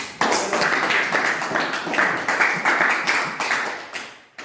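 An audience claps in a classroom or workshop group session, a burst of brisk, fairly close applause from a modest crowd that rises quickly and tapers off toward the end.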